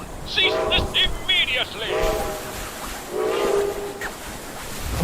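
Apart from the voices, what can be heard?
train whistle and rumble in the video game Fallout 76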